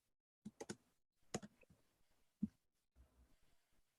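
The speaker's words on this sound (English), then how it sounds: "you might have heard me typing" Typing on a computer keyboard, faint and sparse, a few scattered clusters of quick key clicks with gaps of near silence between them, no talking.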